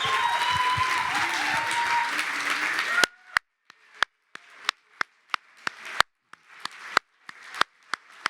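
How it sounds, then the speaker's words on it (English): A graduation ceremony crowd applauds loudly and steadily for about three seconds, then it thins into scattered individual claps that continue sporadically. "Let's give them all a big round of applause."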